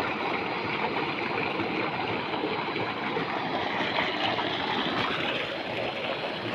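Water gushes steadily from a repaired three-phase motor pump into a field, a loud, dense, continuous rushing flow that stays even throughout without pause.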